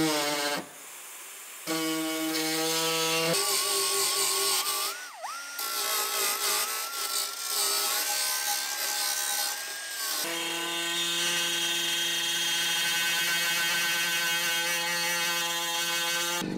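Power tool cutting holes into the sheet metal body of a VW T5 van for a snorkel air intake, a steady loud high-pitched whine that runs continuously with brief pauses and pitch shifts.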